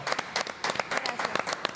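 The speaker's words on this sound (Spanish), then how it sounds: "Pues, por favor, ¡aplauso!" A studio audience on a Mexican TV talk show breaks into applause, a short burst of scattered, uneven claps with some voices mixed in.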